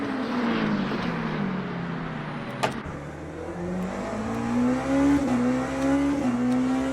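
A white and green Porsche race car screams around Bahrain on a fast lap in a racing game, its engine note rising and falling through gear changes, loud and close with a brief sharp click midway.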